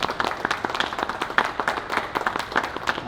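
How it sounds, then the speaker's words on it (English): An audience gives a round of applause at a speech, many hands clapping in a dense, uneven patter at moderate loudness, with no voices over it. "if you give them a round of applause, I would appreciate that"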